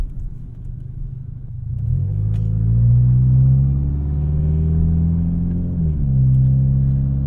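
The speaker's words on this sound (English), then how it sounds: "we are disrupting the peace with our terribly loud junky car" A Toyota Camry with its exhaust fallen off drives through town with a loud, deep, rumbling drone that swells and dips as the engine revs, close and constant with no talking.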